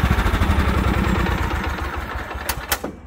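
A John Deere Sabre riding mower engine idles close by with a steady, rough, throbbing chug that fades slightly, then a few sharp clicks near the end as it cuts off.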